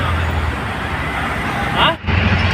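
Auto rickshaw rides through city traffic near Kharghar, its engine rumbling continuously with passing road noise and a short dip near the end, loud and close throughout.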